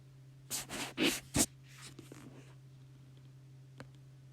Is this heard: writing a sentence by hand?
yes